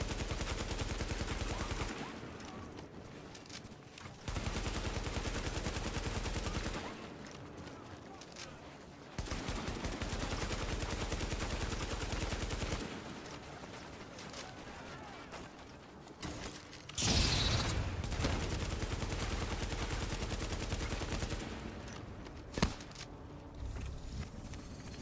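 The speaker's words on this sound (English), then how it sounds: "So you can actually shoot through the tarps." Gunfire in The Division shooting through tarps, repeated long bursts of automatic fire separated by short pauses, loud and close, with a sharp single crack near the end and a voice talking in between.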